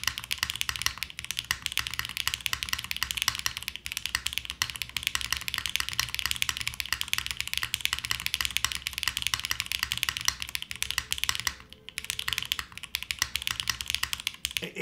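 Steady, dense typing on an LZ CLS SE top-mount keyboard with Macchiato HMX switches and an FR4 plate, a continuous close-up patter of keystrokes with no pauses and no voices.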